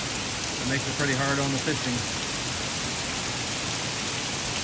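Torrential rain pours at a lake during a summer evening storm, a dense, steady hiss of drops hammering surfaces, loud and unbroken throughout, with someone briefly talking over it.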